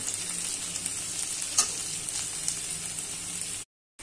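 Tomato pieces fry with turmeric, dried chili powder and salt for a fish curry, sizzling steadily and close up, with a brief scrape of stirring partway through before the sound cuts off.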